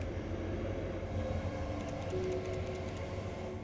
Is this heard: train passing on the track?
yes